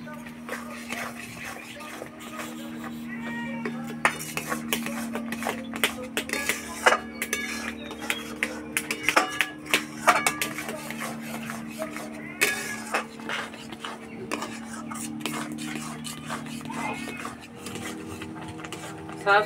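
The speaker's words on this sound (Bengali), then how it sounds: "সবসময় এরকমভাবে নাড়তে হবে" Spatula scrapes and clinks against a pan while a spicy-sweet ripe mango naru mixture is stirred, irregular knocks and scraping over a steady background hum, with a voice talking at times.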